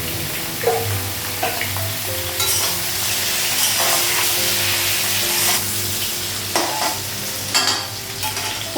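Pointed gourd (potol) slices fry in a pan with a continuous close sizzle, broken by several clattering stirs and scrapes of a utensil against the pan.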